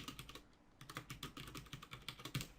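Quiet, steady typing on a computer keyboard while coding, with a fast run of light key clicks and no voices.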